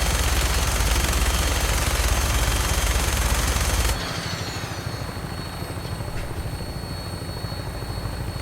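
Gunfire in Fallout 4 roars as a dense, continuous burst with heavy low rumble for about four seconds, then cuts off abruptly, leaving a quieter ringing tail and faint background noise.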